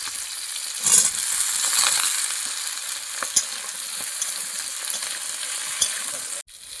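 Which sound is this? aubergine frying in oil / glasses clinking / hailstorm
aubergine frying in oil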